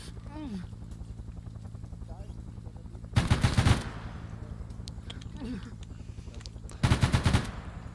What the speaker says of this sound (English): You're free to open fire. I want fire superiority to suppress them.